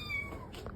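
A little cat gives a short, faint meow, a single brief call with some background noise.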